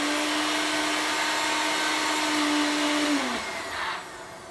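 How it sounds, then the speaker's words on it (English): A smoothie maker purees spinach with a steady, loud motor whine whose pitch holds for about three seconds, then drops and winds down, with nobody speaking. "This is a smoothie maker, or you can use a blender or a food processor."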